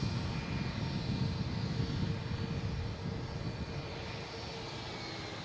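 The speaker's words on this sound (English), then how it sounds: "next taking off is Delta heading to Newark," Delta jet taking off at Boston Logan International Airport, a steady broadband engine roar that stays loud and constant, heard from a moderate distance with no talk over it.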